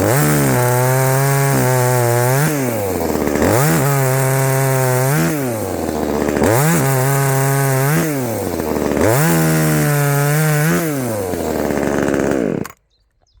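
A one-handed gasoline chainsaw cutting wood outdoors, its engine roaring loud and close in repeated cycles as the pitch dips under load and climbs again, running continuously before cutting off abruptly at the end.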